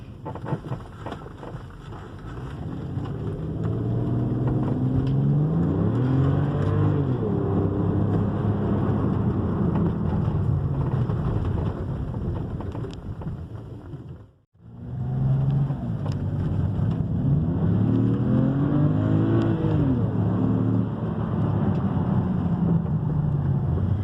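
A BMW X6 335 bi-turbo direct-injection engine is revved hard in two long, loud pulls, its deep roar sustained, then briefly cut off mid-way before climbing again, with no talk.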